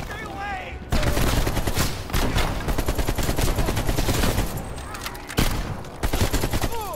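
Sustained rapid gunfire from a Call of Duty Cold War match, loud and near, running almost without pause after a brief quiet start, with a short break before bursts resume.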